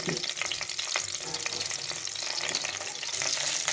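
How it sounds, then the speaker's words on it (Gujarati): Masala sizzling and frying in hot oil for a Gujarati whole stuffed brinjal curry, a steady close crackle with stirring scrapes throughout. "તેલ નાખ્યા પછી આપણે જે આ મસાલો વધ્યો છે એ બધો મસાલો આમાં નાખી દઈશું"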